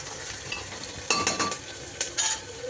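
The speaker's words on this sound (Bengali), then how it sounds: "তো এই হচ্ছে আমাদের ভাজা হচ্ছে, তো আমি আর একটু নাড়িয়ে নেবো যাতে পুরোটা ভাজা হতে পারে।" Mutton fries in oil for a home-cooked curry, with a soft steady sizzle and a few close scraping stirs and light metallic clinks from a spoon in the pot.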